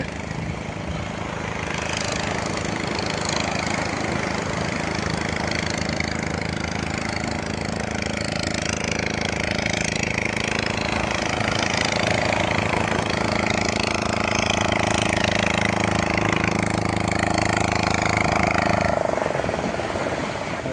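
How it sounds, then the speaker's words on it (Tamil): A tractor engine runs steadily and loudly for about twenty seconds on a beach at the Kottivakkam fishing area, a constant low mechanical drone with faint voices beneath it. "இருக்கிறது டிராக்டர் வந்துச்சு"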